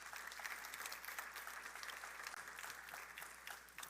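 A church congregation claps steadily at a Sunday service, dense even applause held at a moderate distance for several seconds with no speech.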